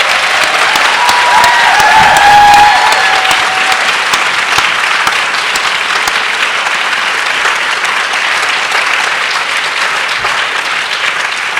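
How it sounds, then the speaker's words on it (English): An audience at a 2018 Brooklyn book festival conversation event applauds loudly, with dense and sustained clapping that swells slightly early on, then holds steady for about ten seconds with no voices over it. "So I really want this room to vibrate with the applause before I step"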